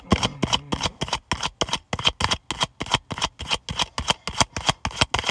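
A tarot deck is shuffled in a fast, even rhythm of crisp riffling flutters, about fifteen close, loud bursts with short pauses between them and no talking.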